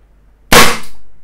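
A Beretta M92FS CO2 air pistol fires a single pellet at a box, giving one sharp, loud crack with a short hissing tail, close by and alone.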